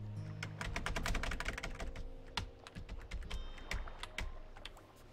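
Computer keyboard keys clatter under quick fingers during play of the game ECO. Rapid, quiet bursts of clicks come in an uneven rhythm, then thin out into scattered taps.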